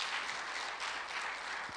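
A room of people at a teacher award event clapping together, a steady dense wash of applause that stays even throughout.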